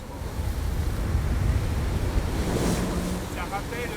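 Strong wind at sea around fifty knots during a diving expedition, a steady loud roar with crashing surf and wind buffeting the microphone, continuous throughout with a faint voice near the end.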